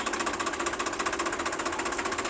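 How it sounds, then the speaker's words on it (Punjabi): A Massey Ferguson tractor engine runs steadily at a tractor market, a continuous rhythmic chugging and knocking throb that stays close and fairly loud with no talk over it. "ਟਰੈਕਟਰ ਪਾਰਕ ਕਰ ਲੈਣ ਦੋ"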